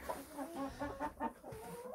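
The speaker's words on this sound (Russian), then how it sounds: "какие курюхи" Marans and Barnevelder hens clucking close by in a backyard flock, a steady run of short repeated clucks and murmurs with no talking.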